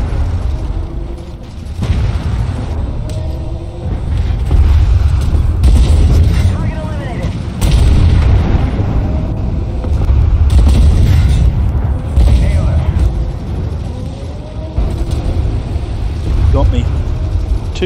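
Two Bradley missiles explode in a video game with deep, loud booms and rumbling blasts, overlapping against continuous battle noise, while a player talks throughout.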